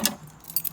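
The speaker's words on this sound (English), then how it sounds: "Keys! Glorious keys!" A bunch of keys for a VC Valiant car jangles briefly up close, two bright metallic rattles in under a second.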